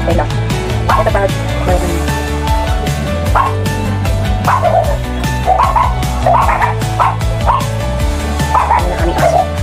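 A dog barks and yips repeatedly with high whimpers, loud and close, over a steady droning background during a home cooking session.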